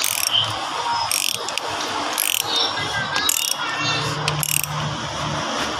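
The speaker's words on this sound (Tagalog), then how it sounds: "Gumamit siya ng tabo wrench. Yung filter wrench." Filter wrench ratcheting as it tightens the oil filter on a Hyundai Accent diesel during an oil change, with repeated short metallic clicks in bursts amid shop background noise.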